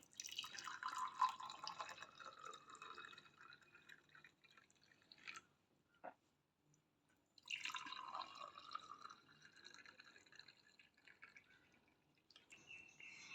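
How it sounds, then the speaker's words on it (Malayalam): Hibiscus tea pours into a serving glass in two separate streams with a gurgling, rising pitch, close and fairly quiet, a brief pause between pours. "ഇനി നമുക്ക് ഇത് സർവിംഗ് ഗ്ലാസ്സിലേക്ക് ഒഴിക്കാം"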